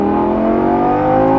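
A Lamborghini Gallardo Performante engine holds a high, steady rev, a loud, sustained mechanical howl heard close up with no voices.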